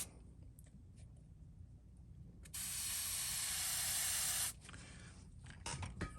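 A steady close hiss of an airbrush spraying iridescent blue paint onto a custom craw fishing lure, running for about two seconds before stopping abruptly, with quieter short spray bursts around it.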